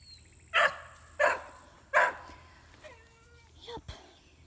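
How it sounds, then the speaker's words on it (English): A farm dog gives three sharp barks roughly 0.7 seconds apart, close and fairly loud, followed by softer yips and whines near the end over a quiet background. "This is a farm dog."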